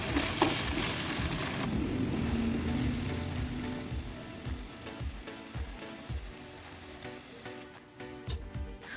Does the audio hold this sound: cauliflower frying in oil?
yes